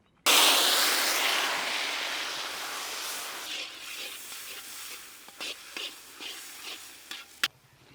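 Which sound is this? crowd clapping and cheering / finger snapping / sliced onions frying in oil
sliced onions frying in oil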